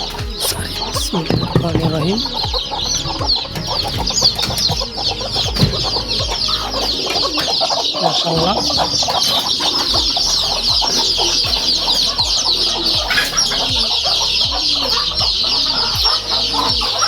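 A flock of chickens and chicks clucks and calls continuously while being fed, close and busy, with overlapping bird voices throughout.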